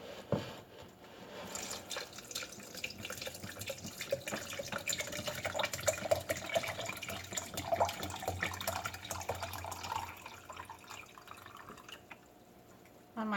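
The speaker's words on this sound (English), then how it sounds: "And then the water, it's going to go up to the water line here." Water being poured into a blender jar up to the fill line while making oat milk, a steady trickling and splashing fill that continues close by for several seconds.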